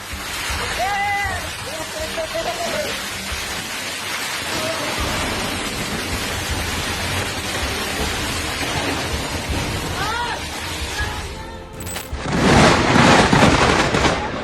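Heavy rain pours steadily during a lightning storm, with rumbling thunder and sharp cracking booms rising loudest near the end, under a continuous wash of downpour.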